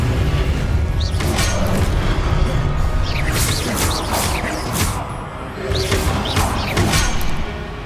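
Rapid spell effects from the video game Hogwarts Legacy burst out one after another, loud booming blasts, crashes and whooshing sweeps layered over a dense, continuous roar of combat with no pause in the barrage.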